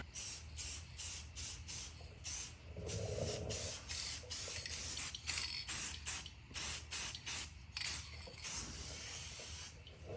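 Aerosol can spraying clear coat over a decal on a Dodge Charger Daytona trunk, with repeated close, loud bursts of hissing spray separated by short pauses, no voices.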